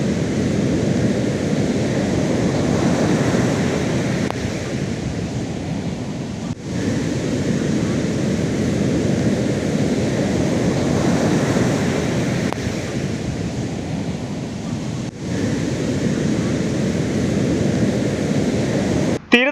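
Sea waves surge onto a coastal shore during a heavy sea surge that floods seaside homes, a continuous loud rolling roar mixed with wind buffeting the microphone, with no talk.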